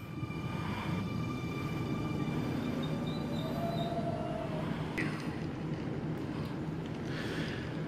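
A Sydney Millennium train passes through a station platform with a steady broad rumble and rolling wheel noise, brief squeals and clunks rising over it, no talk.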